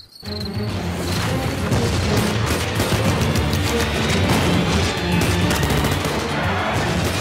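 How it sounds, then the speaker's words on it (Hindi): Heavy, sustained gunfire erupts after a brief quiet moment, a dense rattle of rapid shots and booms that continues without pause. "पूरा इलाका गोलियों की जोरदार तड़तड़ाहट से गूंज उठा"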